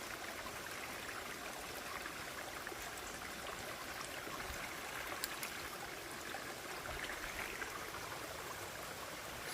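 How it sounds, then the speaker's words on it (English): Babbling brook running through woods at dusk, a soft continuous trickle and gurgle of water heard alone, steady and fairly quiet throughout. "The sound of the brook."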